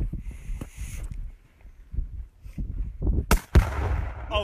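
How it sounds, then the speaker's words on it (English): Roughly 8 pounds of Tannerite packed in a big tractor tire detonates outdoors with a sharp, loud boom near the end, after a few voices and quieter knocks. "We got a big old tractor tire. About 8 pounds of Tannerite, so should be a good one."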